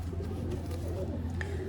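Pigeons at a Lucknow pigeon market give low, throaty cooing that repeats through a brief stretch, close by against a murmur of background noise.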